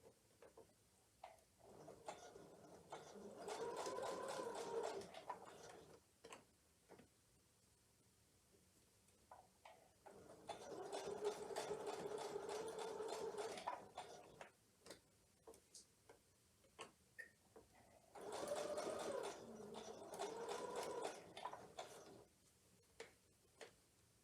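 Quiet sewing machine stitches curved seams on a Double Wedding Ring quilt block in three slow runs of several seconds each, separated by pauses with light ticking and no talk.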